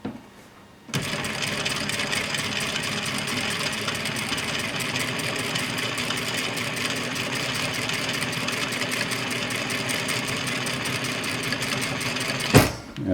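A sewing machine runs steadily for about twelve seconds, stitching over the shoulder seam of a Lutterloh pattern #33 garment. The motor's whirring buzz is loud and close, starts abruptly, and ends with a brief clunk.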